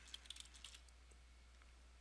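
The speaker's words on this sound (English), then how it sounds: "Now for our group name, we're going to type in HR Printing." Light keystrokes on a computer keyboard as a group name is typed, a quick cluster of soft clicks early on, then quiet, ending with a sharper click.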